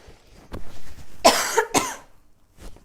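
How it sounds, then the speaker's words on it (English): A few sharp, throaty coughs close to the microphone, two strong bursts in quick succession after a lighter one, then a faint trailing cough. "Oh, I'm coughing."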